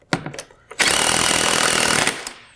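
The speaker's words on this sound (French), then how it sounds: "on utilise une clé 16 mm avec une douille sur une perceuse" A drill with a 16 mm socket tightens a nut on a step installation, with a couple of short knocks first, then a loud, continuous rattling impact whirr for over a second before it cuts off.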